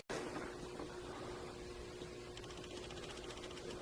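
A sewing machine stitches through tarp material for a DIY camping shelter, a steady, close mechanical whir with a rapid rhythmic needle patter running unbroken throughout.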